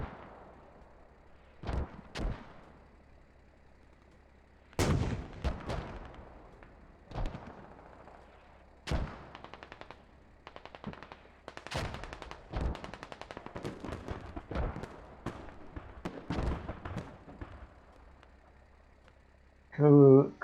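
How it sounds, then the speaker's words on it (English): Gunfire and artillery in the tactical shooter Squad during a competitive match: scattered sharp rifle shots and bursts, some distant, some close and loud, spread irregularly throughout with a steady low background rumble. "Good shots here from Eric and Mitra."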